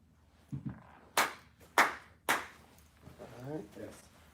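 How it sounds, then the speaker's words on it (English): Three sharp, loud hand claps spaced about half a second apart mark the start of a recording for sound syncing, with brief speech before and after in a quiet room. "I'm gonna get a good clap pat."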